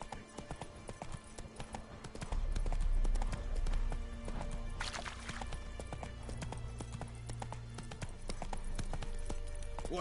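Horse hooves gallop in a fast, steady clip-clop over a low rumbling background in the video game The Witcher 3: Wild Hunt, with game-like ambience and no voices.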